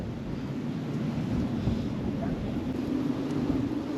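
Steady wind blowing hard outdoors during float fishing in early February, a constant low rumble and broadband rush with gusty swells that never let up.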